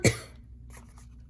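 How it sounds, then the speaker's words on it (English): A single sharp cough from a woman with a cold, close and loud at the start, followed by quiet breathing and faint rustling. "Excuse me, I'm going to cough."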